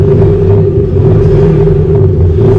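A 2021 Isuzu D-Max pickup engine idling loudly and steadily up close, a deep droning rumble with a slight swell in revs, no voices.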